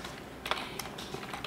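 A few light clicks on a computer keyboard, quiet and close, with a couple of sharper key taps spaced out over a moment of data entry.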